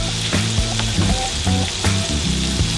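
Crawfish frying in hot oil for a po' boy sandwich, a loud dense crackling sizzle that runs throughout, with clanks and knocks from cookware scattered on top.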